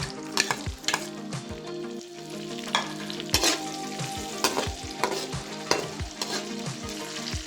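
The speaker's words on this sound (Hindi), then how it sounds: "इनको 2-3 मिनट बस फ्राई करना है, फिर बाहर निकालेंगे इंशाल्लाह।" Raisins fry in a pan for vermicelli kheer, a steady close sizzle broken by repeated sharp scrapes and clinks of a spoon stirring against the metal.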